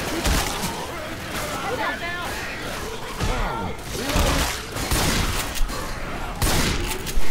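Bursts of rapid gunfire in a video game crackle repeatedly at moderate loudness, mixed with thumps and people talking over the shooting.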